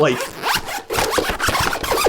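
A chunky zipper on a Paragon Gear gadget bag rasps loudly and quickly around the corners in several continuous pulls up close, briefly pausing midway.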